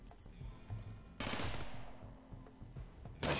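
Gunfire in Rimworld, with Combat Realism, arrives as loud bursts of rapid shots. One long volley sits in the middle and a sharp burst comes at the end, with quieter clicks between them and no talking.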